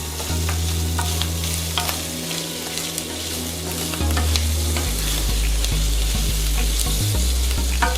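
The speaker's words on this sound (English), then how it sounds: "now we can see this sausage and the guanciale cooking away nicely" Sausage and guanciale fry in a pan with a loud, continuous crackling sizzle, close up, joined by occasional stirring clatter and a steady low hum.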